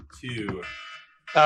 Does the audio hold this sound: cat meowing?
no